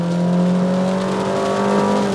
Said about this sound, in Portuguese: Você vê que o motor berra bem